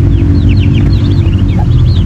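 A mother hen clucks after leaving her nest on a backyard farm, with short repeated calls over a loud, constant low rumble.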